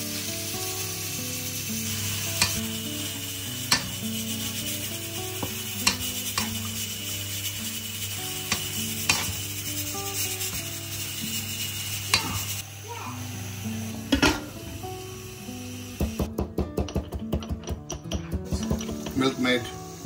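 Carrots frying in a pan with repeated sharp stirring and scraping clicks over a steady sizzle, the clatter growing denser and rapid toward the end, with a voice talking at times.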